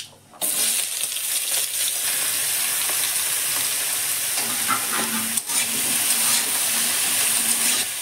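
Young seedless bottle gourd dropped into hot oil in a wok with bay leaf, mustard seeds and a dried chilli, giving a loud, steady sizzle with occasional stirring scrapes throughout.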